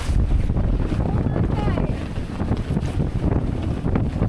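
A strong gust of about 27 knots hits a sailboat at anchor in Fagasa Bay, American Samoa, loud buffeting wind and rushing water close by, with no pause throughout.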